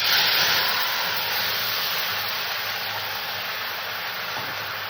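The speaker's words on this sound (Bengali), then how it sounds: "আমি এবার মাছের ঝোলটা এখানে ঢেলে দেবো" Fish curry with mustard and poppy seed is poured into a hot tempering of black cumin in oil, letting out a loud, broad hiss that starts strongest and slowly eases over a few seconds.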